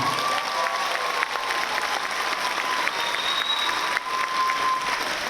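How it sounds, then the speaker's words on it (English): A large crowd applauds steadily for several seconds at a high school graduation ceremony, a dense wash of clapping with no voices rising above it. "Can we clap up for Lennox one more time?"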